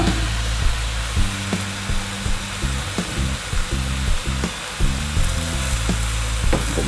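Chinese cabbage stir-fries with oyster sauce in a hot pan, a steady loud sizzle with periodic scraping and stirring knocks over a constant hiss, no voices.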